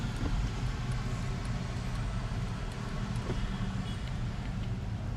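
Muffled road traffic rumbles outside a closed Chery J6 EV electric car parked at a roadside, a steady low drone with faint passing-vehicle swells heard through the sealed cabin.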